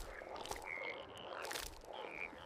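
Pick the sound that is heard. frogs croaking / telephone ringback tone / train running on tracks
frogs croaking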